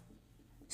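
Writing on a board while working a Class 10 triangles geometry solution: a short, sharp scratch of a writing stroke at the very end, after near silence.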